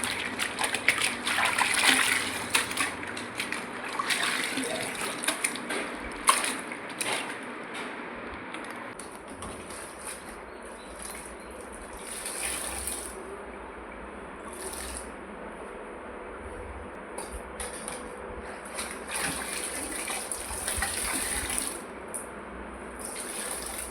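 A house floor is being washed and mopped, with irregular splashes, sloshes and trickles of water coming in bursts at close range, broken by quieter pauses and faint background sounds.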